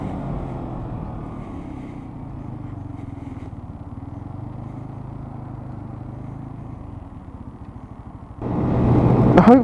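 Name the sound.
motorbike riding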